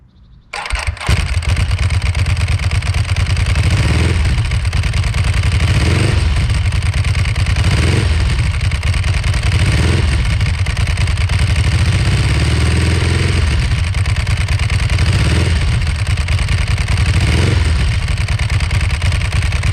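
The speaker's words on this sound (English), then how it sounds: "that is the stock exhaust you just heard" A Ducati 999 with its Testa Stretta engine and stock exhaust starts and idles loudly up close, with a deep, lumpy twin-cylinder rumble and several repeated throttle blips that rise and fall.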